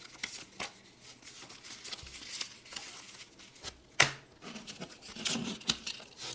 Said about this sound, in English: we have this envelope containing the manuals